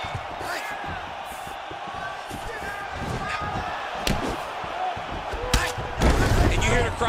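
Arena crowd in the EA Sports UFC 4 fighting game reacting to heavy strikes, a steady roar of noise with sharp impact thuds and swells toward the end, under commentary.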